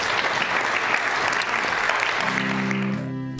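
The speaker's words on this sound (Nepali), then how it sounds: "प्रभुको वचनको लागि हामी ताली बजाएर धन्यवाद दिनेछौँ" Church congregation clapping together in steady, dense applause that fills the room for about three seconds before dying away as a low musical tone comes in.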